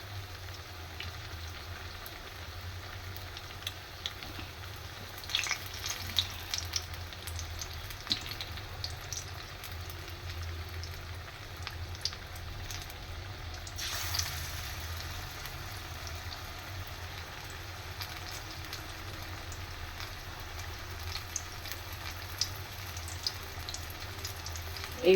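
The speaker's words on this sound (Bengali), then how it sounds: "এইভাবে আমি সবগুলো ভেজে নেব।" Egg and tomato chops frying in oil make a soft, steady bubbling sizzle with scattered faint pops and crackles. The sound stays fairly quiet and even throughout, with no voices over it.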